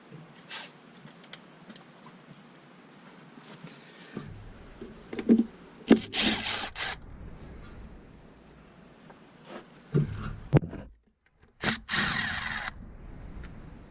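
Hand and power tools work bolts loose on a seized 2008 VW GTI engine, with scattered metallic clanks and several short, loud bursts of tool noise separated by quieter gaps, close by and with no voices.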